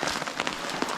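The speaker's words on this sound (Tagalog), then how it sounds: "Wala pa ring tigil ang ulan." Steady rain falls in Sagada in the Philippine highlands during a multi-day downpour, a dense continuous patter of drops on surfaces, close and even throughout with no voices.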